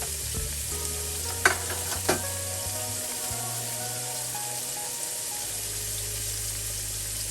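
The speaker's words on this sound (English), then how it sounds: "I think I'm going to fry the rest of those" Fish fries in hot oil in a pan with a steady low sizzle, two louder clanks early on and a faint running hum beneath.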